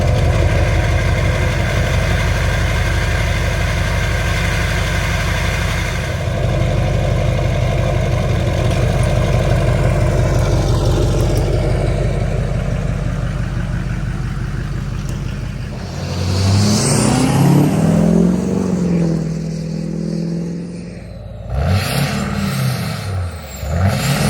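A car engine with a 5-inch straight pipe exhaust idles with a loud, deep, steady rumble, then revs hard in sharp rising bursts toward the end, close and dominant.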